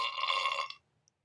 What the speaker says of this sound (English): these two, belch 1 and 2, are the sounds when you lose the game